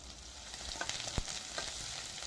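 Scrambled egg being chopped and stirred in a hot pan for egg fried rice, a faint steady sizzle broken by a few quick spatula taps and scrapes, with one sharper knock near the middle.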